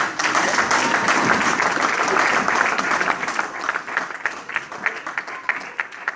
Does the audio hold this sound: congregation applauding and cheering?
yes